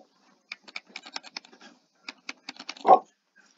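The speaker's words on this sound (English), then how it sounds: "I am just butterfly clicking" Rapid mouse clicking during a Minecraft Bedwars match, in two quick bursts of sharp, close clicks with a short pause between them and a dull thump near the end, no talking.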